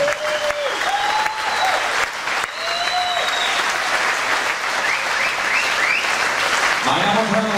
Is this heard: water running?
no